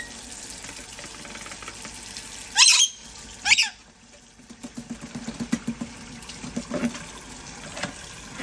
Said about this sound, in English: You're getting water everywhere.